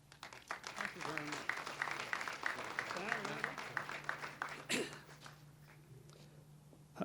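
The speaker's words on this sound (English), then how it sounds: "I'd like to give you an opportunity to give them a round of applause and thank you." A crowd at a regional fire and rescue training center groundbreaking ceremony applauds, moderate clapping running under a voice before tapering into quieter scattered claps near the end.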